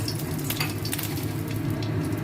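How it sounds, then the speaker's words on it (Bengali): Whole chillies tempered in hot oil for a green banana chechki give a continuous close sizzle and spatter, with light crackles throughout. "লঙ্কা ফোড়ন দিচ্ছি"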